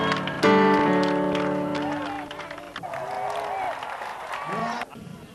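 A stadium crowd acclaiming at a live gospel concert in Kinshasa, a broad roar of cheering and clapping that swells at first, then fades gradually beneath someone speaking over it.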